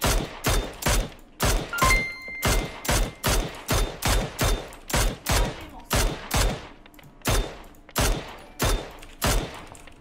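Rapid, regular bursts of video game gunfire repeat about twice a second for the full ten seconds, each shot loud and close with a short decaying tail, as heard during a team practice match.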